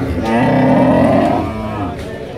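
Cattle low loudly and close at a crowded livestock market in Kaitla, Mirzapur, Tangail, where thin heifers are traded; one long, sustained moo dominates the moment, with no talk over it.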